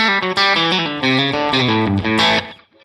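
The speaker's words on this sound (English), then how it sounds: "you just get that really quick delay sound that makes it sound like it's just less dry but not hugely spacious" Electric guitar through a Line 6 Helix crisscross delay set very short, a quick slapback doubling that thickens the notes without spacious reverb; a loud, sustained chordal phrase with bright, slightly distorted tone, then a brief fade.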